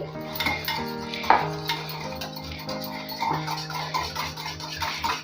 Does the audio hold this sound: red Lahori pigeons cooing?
no